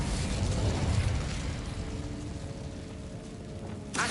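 Incendio fire spell cast in Hogwarts Legacy, a loud rushing burst of flame that holds for a couple of seconds, then fades into a softer crackling hiss before a brief sharp sound at the end.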